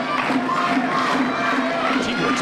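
A pro wrestling show crowd cheers and roars steadily in an arena, a continuous dense wash of voices with no clear break.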